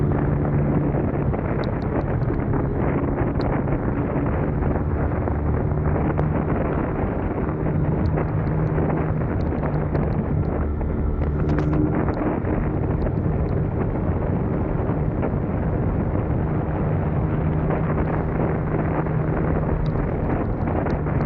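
Steady broadband wind buffeting on an Insta360 camera microphone while riding a scooter fitted with a JVT pulley set and JVT 1K RPM springs, a loud continuous rumble with no talk over it.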